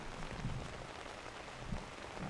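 Steady rain falls during a disc golf tournament, a continuous hiss of drops hitting the surface, with a few dull low thumps and no talking.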